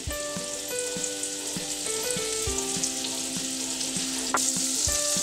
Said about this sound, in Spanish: Ahora a la misma sartén vamos a agregar una cucharada de mantequilla. Y aceite de oliva.